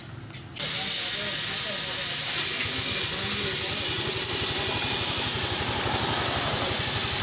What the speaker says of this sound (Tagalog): So dito mga Diaz, meron tayong maririnig na lagitik. So dahil doon sa kanyang bola